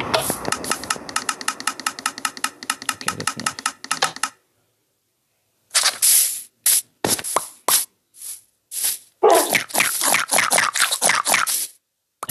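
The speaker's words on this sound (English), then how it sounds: "That's the fox eating at the berry bushes." A video game fox eats at berry bushes: rapid rattling crunches in a steady stream, then a brief silence, followed by bursts of crisp munching and rustling, loud and close.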